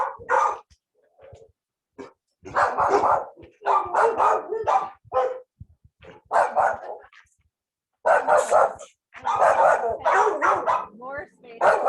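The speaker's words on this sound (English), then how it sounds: "More space over here for more dogs too." Many dogs barking in a kennel area, loud overlapping bursts of barks and yips in irregular clusters with short pauses, close by, with people talking among them.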